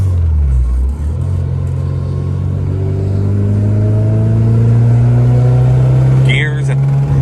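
A Honda Type R on the street, its engine droning and revving as it drives and climbs steadily in pitch, loud and close, with people talking inside the car over it.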